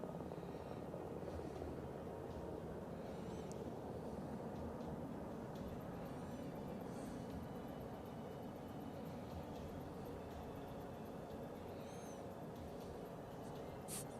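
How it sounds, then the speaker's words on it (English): A helicopter approaches to land on a ship's flight deck, heard from the bow across the deck: a loud, steady rotor and engine roar fills the whole stretch without letting up. "The first helicopter coming in."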